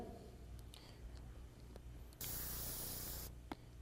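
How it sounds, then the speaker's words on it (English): Red spray paint hisses from an aerosol can in one steady burst of about a second, close and loud after quiet ticks and handling noises, with a faint click at the end. "Okay, we sprayed red in there."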